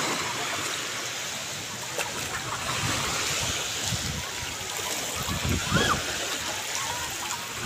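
Ocean waves washing onto a beach form a steady broadband wash with a few louder surges, and people chatter and call out underneath.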